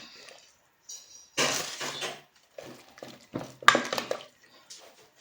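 A spoon stirs salt and Cameroon pepper into a pot of Rivers-style fisherman soup, giving sharp metallic clinks and knocks in irregular bursts separated by near-silent gaps.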